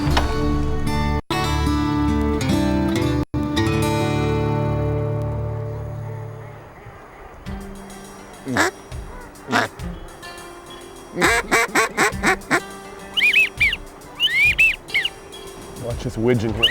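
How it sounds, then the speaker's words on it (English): Duck calls blown at wigeon during a Mississippi duck hunt: long sustained reedy call notes, then a series of short quacking bursts and high whistling wigeon-like peeps, loud and close. "I'm looking forward to calling to a few ducks."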